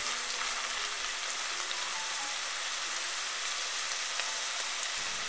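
Minced meat stir-fried in a pan until it changes colour gives a steady, close sizzle and crackle with light stirring scrapes, constant and even throughout.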